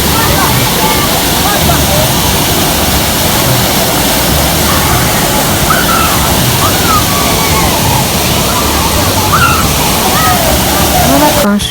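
Steady broadband rush of a waterfall at a busy outdoor spot, loud and continuous throughout, with faint crowd voices mixed into the roar.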